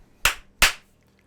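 Two sharp hand claps about 0.4 seconds apart, loud and close, with nothing else around them.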